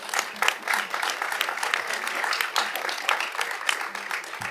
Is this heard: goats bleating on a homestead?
no